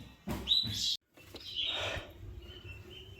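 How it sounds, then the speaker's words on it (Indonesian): Chirping from a fallen munia (emprit) chick, a few short, loud, high-pitched calls in quick succession and then a softer chirp with a thin background tone, close to the microphone. "Ini anak burung yang kemarin saya lolohi dan gak mau dilolohi ya."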